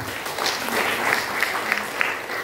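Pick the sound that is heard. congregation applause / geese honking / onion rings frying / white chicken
congregation applause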